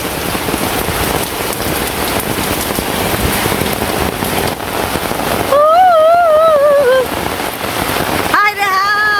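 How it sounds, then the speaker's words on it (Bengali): Steady, loud rain pours down in a village, drumming on surfaces without pause, with a sharp whistling or animal-like cry rising over it near the end. "কিন্তু আইসি আর বৃষ্টি নেমে গেল।"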